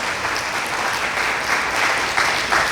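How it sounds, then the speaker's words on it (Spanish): Steady applause from a church congregation fills the space, a dense wash of many hands clapping at even loudness throughout, with faint voices mixed underneath. "Vamos a darle un aplauso al Rey de Reyes y Señor de Señores"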